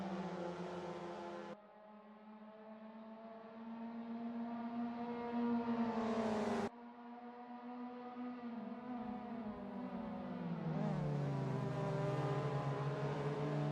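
Mazda MX-5 Cup race cars scream past at Harris Hill Raceway, engines holding high revs with gear changes and pitch shifts as the cars chase each other, loud and continuous with no speech.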